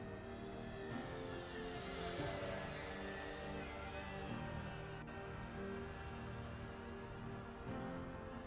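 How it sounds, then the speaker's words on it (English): A JJRC H16 Tarantula X6 quadcopter, modified, flies steadily nearby with a continuous high-pitched multi-rotor whine and buzz that holds at an even level throughout, with no voices. "Continue flying it now, less torque,"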